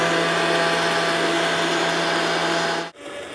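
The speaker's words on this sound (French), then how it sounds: "mixez le sucre glace avec la poudre d'amande" A blender whirs steadily as it mixes icing sugar with almond powder for apricot macarons, a loud continuous motor drone with a steady hum that cuts off abruptly near the end.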